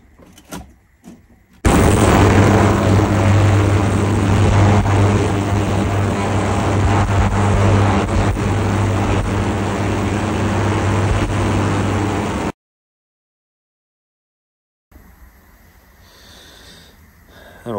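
A Sunbeam car engine runs steadily at idle for about ten seconds, a loud continuous rumble with a low steady drone, then cuts off abruptly into silence before faint background noise returns.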